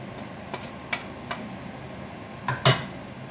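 Sparse clinks and taps of a utensil against a pan as cooked tagliatelle is stirred into a leek fondue and shrimp sauce, about six distinct knocks over quiet kitchen background.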